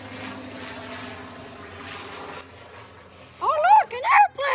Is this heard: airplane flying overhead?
yes